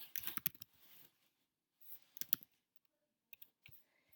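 Typing on a computer keyboard to enter a function into a graphing calculator: short bursts of quiet clicking keystrokes separated by pauses, close and soft, with no talking.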